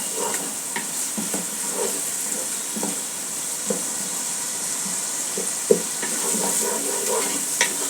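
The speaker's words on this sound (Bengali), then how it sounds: "ভালো করে পেঁয়াজটা বাদামি রঙ করতে হবে ভেজে" Chopped onions fry in oil for bhuna khichuri, with a soft steady sizzle and scattered scraping clicks as a spoon stirs them around the pot; no one speaks.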